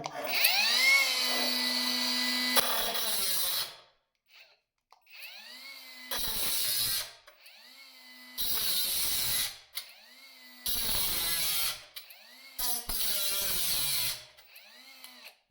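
A Leader 76mm compact cordless angle grinder whines in repeated bursts, spinning up and cutting through a metal profile several times with short silent pauses between runs.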